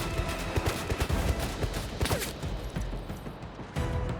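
Turret gunfire in a 007 video game, a dense run of rapid shots and crackling bursts that sounds loud and continuous for several seconds, with a few heavier impacts mixed in.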